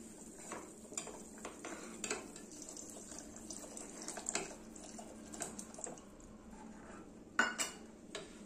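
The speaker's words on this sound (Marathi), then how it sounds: "सो बॅटर घातल्यानंतर लगेचच ढवळून घ्यायचंय" A spoon stirs ragi batter into simmering vegetable soup in a pot, with faint intermittent scrapes and clinks against the metal and a soft wet swirl, quiet and close.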